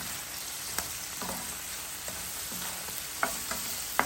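Chayote pieces stirred into a pan of mussels, giving a faint steady sizzle with a few soft scrapes and clicks of a spatula against the pan, no talking.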